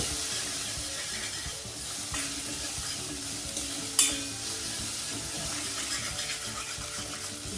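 Potato paratha filling is roasted in a pan, giving a steady bright sizzle with soft stirring scrapes and one sharp clink near the middle.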